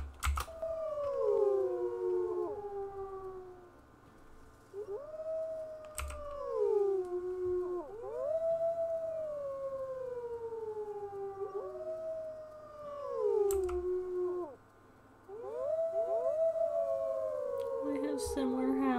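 Wolves howling in the video game WolfQuest, several long overlapping howls rising and falling in turns, clear and fairly close, with faint keyboard tapping beneath.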